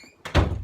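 A door is pushed, giving a short knock followed by a heavier thud and brief rumble, close and moderately loud with no talking.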